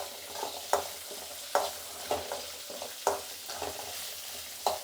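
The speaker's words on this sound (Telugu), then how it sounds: "అలాగే తెల్లగడ్డ, ఎండుమిర్చి ఇవి వేసుకొని వేయించుకుందాము" Garlic and dried red chillies frying in a pan, a soft continuous sizzle broken by regular scraping stirs of a spoon, close and fairly quiet.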